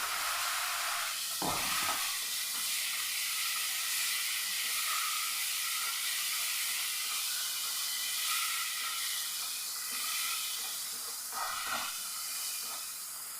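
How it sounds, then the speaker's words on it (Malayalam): Tomato paste sizzles steadily in a hot pan, a continuous loud hiss with faint spattering and a couple of soft utensil knocks. "ഇനി ഇതിലേക്ക് നമ്മൾ അടിച്ചു വെച്ച് നമ്മുടെ തക്കാളിയുടെ പേസ്റ്റ്"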